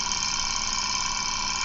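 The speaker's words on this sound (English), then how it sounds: "let me see if I turn off this engine first" A running Stirling engine gives off a steady, even mechanical whir with a bright buzzing tone, continuous and close, with no talking.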